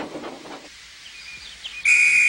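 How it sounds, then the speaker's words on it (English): After a quiet stretch, a shrill, steady conductor's whistle from a Thomas & Friends TrackMaster toy train scene blasts in near the end, loud and sustained, preceded by a brief hiss of steam. "Oh, that's my conductor's whistle."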